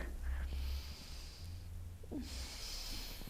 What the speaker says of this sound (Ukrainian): голова з поглядом слідує за рукою вдих і видих